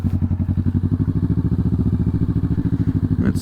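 A Kawasaki Vulcan 650 motorcycle engine chugs close up with a steady, rapid pulsing beat at idle or low revs, loud and continuous, with a brief clatter near the end.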